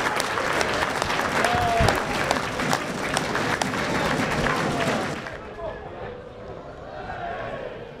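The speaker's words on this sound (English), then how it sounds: "Cheers from the home crowd as they're just passing it around." Home crowd at a Scarborough versus Kettering football match applauds and cheers in a dense, loud, sustained roar that eases off after about five seconds into quieter crowd murmur, with a commentator talking over it.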